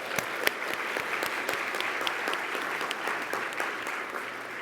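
Audience applause at the opening of a healthcare conference in the Cayman Islands: a dense, steady wash of many hands clapping throughout, moderately loud and sustained with no voices breaking through.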